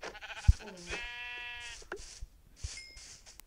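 Sheep in the video game Minecraft bleat in a clear harmonic call near the middle, with short game sound effects and thumps before and after it. People talk nearby.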